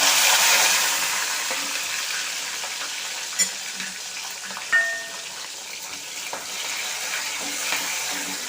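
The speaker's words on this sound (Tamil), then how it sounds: "நல்லா வதங்கட்டும்" Onion, tomato and green chilli sauté in hot oil with mustard seeds and urad dal for a greens dish, a close steady sizzle broken by a few sharp spatula clinks and stirring scrapes.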